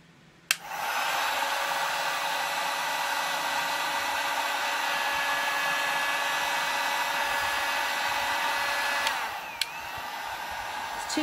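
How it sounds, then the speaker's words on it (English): A heat tool warming a craft mould switches on with a click and blows a loud, steady rushing hiss for about nine seconds, then clicks off. It is close, with no talking. "I am just going to heat it just a little bit, so excuse the noise."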